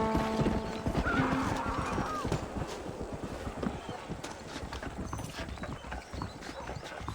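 Horse hooves clop steadily at a walking pace in the Red Dead Redemption video game, with a whinnying neigh rising early on over a soft ambient bed.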